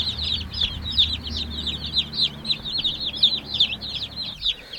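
Newly hatched Cornish cross meat chicks peep continuously in an outdoor brooder, a dense flock of rapid high-pitched chirps heard close and fairly soft.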